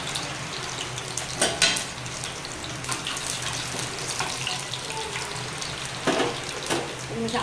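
Panch phoron and dried red chillies sizzle in hot oil in a kadai with a steady, close hiss. A few brighter crackles break through now and then.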